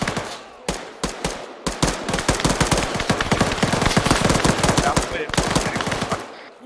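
Rapid automatic rifle and machine-gun fire rattles through a rooftop firefight in the ArmA 3 video game, with dense overlapping bursts and single shots that are loud and close, continuing almost without pause.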